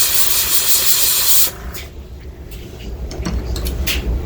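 A steady, loud hiss of an airbrush spraying paint onto paper that cuts off abruptly after about a second and a half, followed by quieter short bursts and faint clicks.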